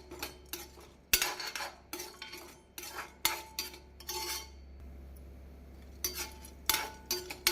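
Chana dal dry-roasting in a pan for garlic idli podi, with a spoon scraping and clinking against the metal in irregular bursts, close and fairly quiet, no talking.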